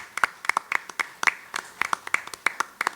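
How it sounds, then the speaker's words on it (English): A modest group of people claps to welcome a speaker at a panel discussion on leadership in crisis, individual claps sharp and clearly separate in an irregular, moderately paced patter. "Let's give him a big round of applause."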